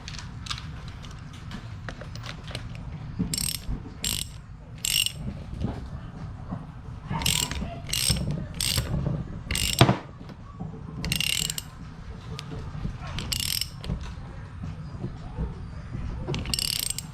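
A ratchet tightens a threaded, Teflon-taped turbo fitting during a compound turbo install on a 5.9 Cummins, giving repeated short bursts of rapid clicking with brief pauses between strokes, close and fairly loud.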